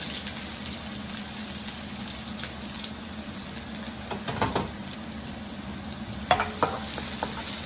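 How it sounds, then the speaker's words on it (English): Chicken and shrimp pad thai being stir-fried in a pan, with a soft continuous sizzle, a few louder scraping stirs midway and near the end, and a faint watery background, no voices. "I try to cook pad thai."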